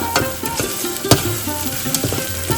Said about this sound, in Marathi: मसाल्याला तेल सुटत आहे चांगला फ्राय करायचा आहे मसाला